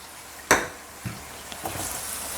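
Red wine vinegar splashes into a pot of venison stew, giving one sharp hiss at the start, then softer clinks and a steady low sizzle continuing underneath.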